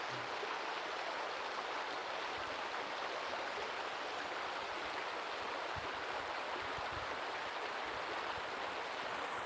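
A river flows as a steady, broadband rush of water, continuous and even in loudness, heard alone with no voices.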